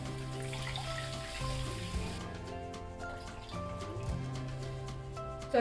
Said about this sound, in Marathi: आता मी याच्यामध्ये पाणी घालते